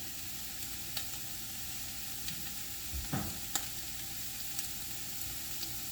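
Onions and sautéed vegetables sizzle faintly in a pot for seafood gumbo, a steady quiet hiss with a few light clicks and one brief stir scrape.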